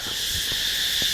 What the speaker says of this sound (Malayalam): പക്ഷെ ആ പക്ഷികളുടെ ശബ്ദം ഇപ്പോഴും കേട്ടുകൊണ്ടിരിക്കുന്നുണ്ട്